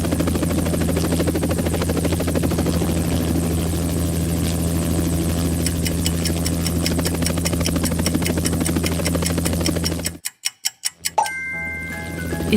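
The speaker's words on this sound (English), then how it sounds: "It's a helicopter." A helicopter thuds with a steady, rapid rotor chop and a constant engine drone, loud and close throughout, before cutting out abruptly near the end with a few bright chimes.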